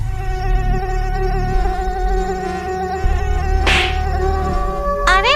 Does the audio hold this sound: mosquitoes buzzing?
yes